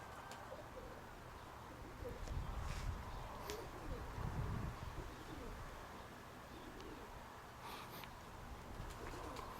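Pigeons coo softly in an aviary holding several broods, a steady low murmur of calls that swells slightly in the middle, with faint outdoor noise and light rain around.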